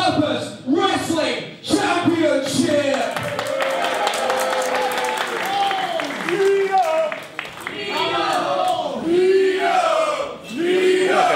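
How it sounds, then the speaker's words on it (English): A crowd at a professional wrestling event cheers, claps and shouts continuously, while a loud announcer voice speaks over the noise. "that's how much the crowd love Nina."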